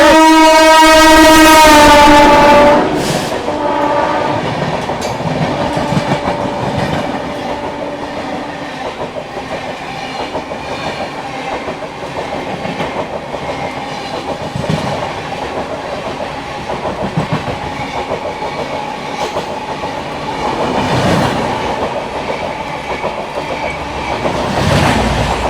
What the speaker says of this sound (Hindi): इटावा पे सिक्किम महानंदा को ओवरटेक करने आ रही है आनंद विहार जोगबनी सीमांचल एक्सप्रेस